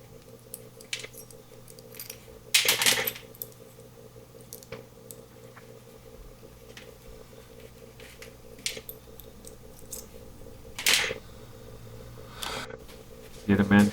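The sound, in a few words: pulling wheels off toy Midge Corvette cars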